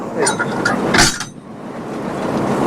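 A commuter train coach couples to its engine on the Dhaka–Narayanganj line with a sharp metallic clank about a second in, preceded by lighter knocks and followed by steady station rumble.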